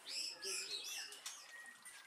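Caged songbirds chirping, several bright overlapping tweets and trills in quick succession, fairly close, continuing throughout with no talking.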